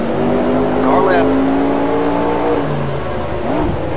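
Stock car engines in the racing game NR2003, set in a 1969 USAC stock car season, roar loudly and without a break, with a droning whine that climbs and falls as cars pass, while a spotter talks over the sound.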